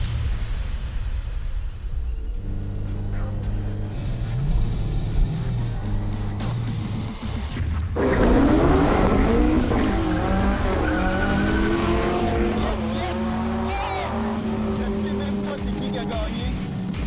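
Project car launching from a standstill with full wheelspin, the engine revving up and tires squealing loudly as it accelerates hard away, with voices talking over the early part.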